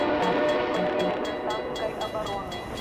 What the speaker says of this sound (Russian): Японо мать, какой поезд!